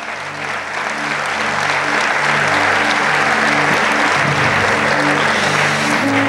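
Loud, sustained applause from a church congregation fills the whole stretch, a dense wash of many hands clapping together with faint crowd murmur underneath and a steady low hum behind it.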